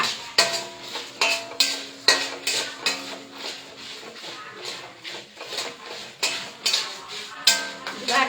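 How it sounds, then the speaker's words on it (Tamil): A utensil stirs dried red chillies, cumin and coriander roasting in sesame oil in a pan, clinking and scraping against the metal in a quick, steady rhythm of about a dozen close, sharp strokes. "மரச்சட்டு நல்லெண்ணெய் ஊற்றி வரமிளகாய் போட்டாச்சு, சீரகம் போட்டு வறுத்துட்டு இப்போ கொத்தமல்லி போட்டு வறுத்துட்டு இருக்கிறேனுங்க"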